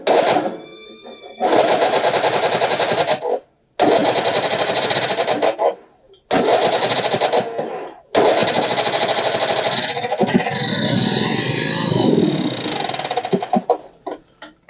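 An old Ariens lawn mower engine starts and runs with a loud, harsh rattling chatter in several bursts separated by brief cutouts, close up, with faint voices.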